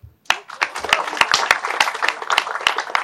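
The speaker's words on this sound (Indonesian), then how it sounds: "Ayo kita tepuk tangan." Audience clapping at a talk on critical thinking, starting abruptly after a brief pause: a fairly close, uneven patter of many hands with distinct sharp claps standing out, lasting about three seconds.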